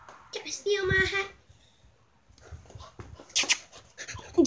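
A dog pants and whimpers in short rough bursts close by, with a quiet gap in the middle and a few sharp breathy sounds near the end.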